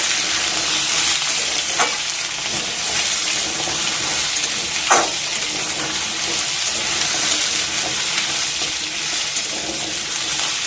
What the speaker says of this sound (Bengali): আলু দিলাম, মূলোটা দিয়ে দিলাম, সব একসাথে দিয়ে এবার নাড়াচাড়া করব।